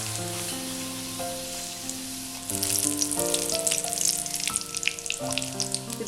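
Bhatura dough dropped into hot oil, a steady crackling sizzle that bursts louder partway through as the bread puffs and fries, with a low background hum running underneath.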